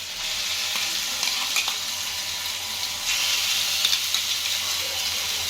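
Onion paste and mixed spices frying in a pan for a fish gravy, a loud, continuous hissing sizzle with brief scraping and clinking of stirring, swelling slightly partway through.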